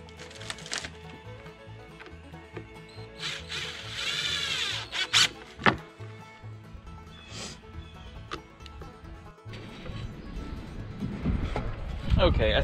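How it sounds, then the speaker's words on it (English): Screws are driven into the wooden boards of a fireworks mortar rack, giving short whirring, squeaking bursts close by, with a person talking between them. "We're just gonna get these screws started here."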